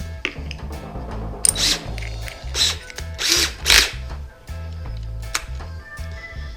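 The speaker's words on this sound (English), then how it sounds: "I'm just gonna drill these out a little bit." A power drill with a 5/16 bit whirs in several short bursts, spinning up and biting in while drilling out holes in mirror-frame trim, with quiet mechanical clicks between runs.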